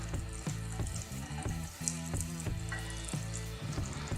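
Thinly sliced garlic simmers in olive oil and butter for linguine with white clam sauce, a steady sizzle beneath louder background music.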